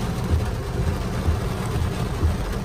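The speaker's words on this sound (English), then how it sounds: "it's the rain on the car" Torrential thunderstorm rain at Big Bear Lake, California, pounds on a parked car, a thick, steady wash of noise from inside the cabin with a low rumbling undertone.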